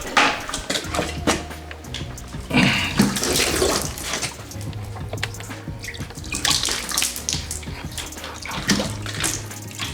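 Water being drawn from a well at an old fortified mansion, with continuous splashing, pouring and sloshing of water close by, rising and falling in bursts alongside clanking and a low hum, with no talking.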